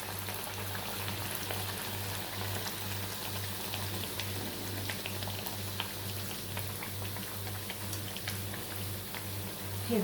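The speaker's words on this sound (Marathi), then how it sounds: "आणि हळूहळू आपण तो तळून घ्यायचा आहे" A corn-flour kombadi vada fries slowly in hot oil in a kadhai, giving a soft, even bubbling sizzle with light crackles that holds steady throughout, moderately quiet and close, with no voices.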